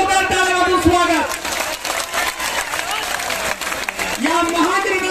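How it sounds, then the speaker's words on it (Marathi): A crowd at a large Maratha community rally breaks into loud applause, dense clapping with voices and cheers mixed in, a chanting or sung voice rising over it at the start and again near the end. "एकदा जोरदार टाळ्या वाजवून स्वागत"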